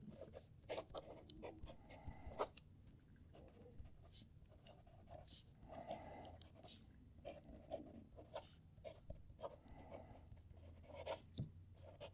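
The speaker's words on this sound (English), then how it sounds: "this pen, I would say, of the three, is the quietest when it's writing" Fountain pen with a wet ink combination writing a sentence on paper, faint scratchy strokes and taps in irregular bursts, very close and quiet, alone without speech.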